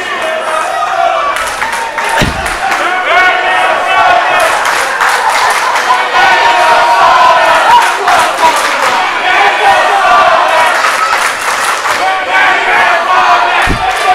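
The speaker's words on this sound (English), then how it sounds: "So everybody's cheering for Andrew Anderson" Crowd at a professional wrestling match cheering for Andrew Anderson, a loud sustained roar of voices with shouts and scattered clapping that swells and holds throughout, with a couple of low thuds.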